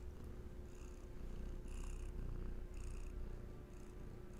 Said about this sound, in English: So we've got a cat.